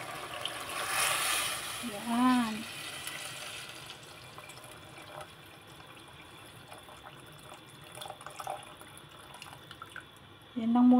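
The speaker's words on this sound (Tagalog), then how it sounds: "Ngayon guys, ibubuhos ko yung pinakuluan kong tubig." Boiled water pours into a pot of chicken for herbal chicken soup, a short, splashy gush near the start that fades under a person talking in a kitchen.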